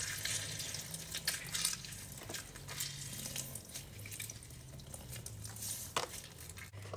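Juice from half an orange runs into cake batter in a bowl, a soft continuous trickling and light dripping with faint patter, close and steady without talk.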